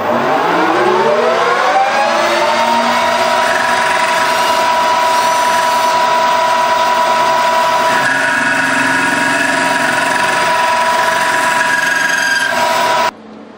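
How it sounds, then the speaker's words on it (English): A metal lathe cuts a 2-degree taper with the top slide set over. A steady mechanical whine rises over the first two seconds, holds for about eleven seconds, then stops. "So let's cut a taper"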